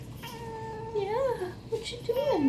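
A grumpy cat meows in two drawn-out, rising-and-falling calls, close by, with a person talking softly over it.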